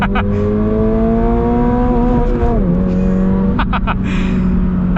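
A 2022 Toyota 86 or 2022 Honda Civic Si engine revs hard toward the red line, pitch climbing steadily before a sharp shift drop and another climb, loud and close inside the cabin.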